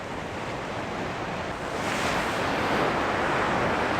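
Powerful ocean waves crash and surge along the Tasmanian coast, a loud continuous roar of surf with wind noise that swells louder partway through, no voices.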